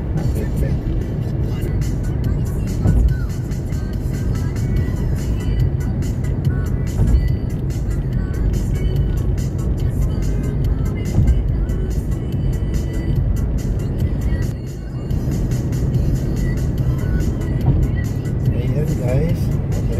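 Steady road roar of a car cruising at 110 km/h on the Dammam–Khobar highway, continuous engine and tyre noise filling the whole stretch with someone talking over it.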